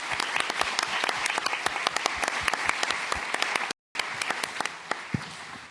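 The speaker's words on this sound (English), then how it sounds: "join me in applauding all the members of the panel for these excellent discussions" Conference audience at a corporate governance event applauding panel members, a dense run of crisp close claps, briefly cut to silence before the clapping resumes a little softer.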